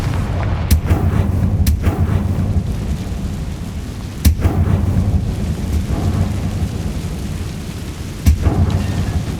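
Confringo fire spell explosions from Hogwarts Legacy: a steady low rumble with sharp bursts near 0.7, 4.3 and 8.3 seconds, loud and close, with no voices.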